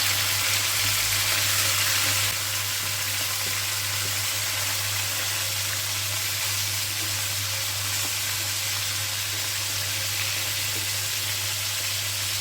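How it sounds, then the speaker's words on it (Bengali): Salted, lemon-rubbed broiler chicken pieces fry in hot oil in a wok with a loud, continuous sizzle that starts strong and stays steady, with no one talking. "আগে থেকে লবণ আর লেবু মাখানো মুরগিগুলো দিয়ে দিব ভাজার জন্য।"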